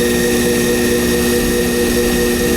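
R&R DC spindle in a D&M4 CNC mill running at 100% override, a loud steady whine with constant tonal hum and no change throughout.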